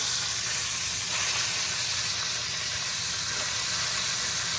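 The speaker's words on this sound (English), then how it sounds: "Brown them for about 7 minutes on each side." Cajun pork chops browning in a pan just after being flipped give a loud, continuous hissing sizzle that stays steady and close throughout, with no voices.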